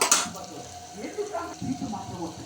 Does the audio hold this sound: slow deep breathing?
no